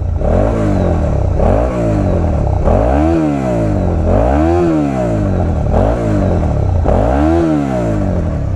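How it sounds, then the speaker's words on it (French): Stock exhaust of a 2019 Suzuki SV 650 motorcycle, loud and close, with the engine revved repeatedly in rising and falling sweeps, about six blips in steady rhythm, no talking. "on va écouter tout de suite le pot. Hein, pot d'origine SV 2019."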